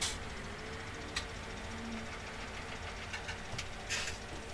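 A small John Deere tractor engine runs steadily at a low, even drone, moderately distant and fairly faint, with a few brief knocks and clatters over it and no speech.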